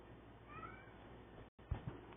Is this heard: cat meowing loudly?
yes